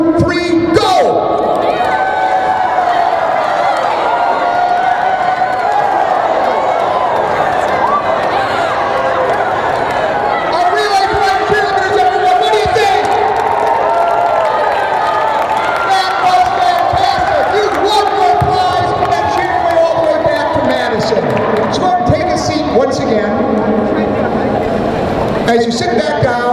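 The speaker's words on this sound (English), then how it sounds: "you're going to do a huge cheer for Relay for Life" A hypnotized audience at a University of Wisconsin Relay for Life event lets out a huge, sustained group cheer, with loud shouting and whooping from the crowd carrying on throughout.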